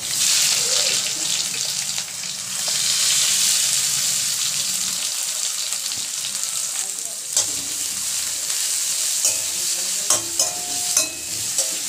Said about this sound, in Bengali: হালকা লাল করে আমি ভেজে নেব।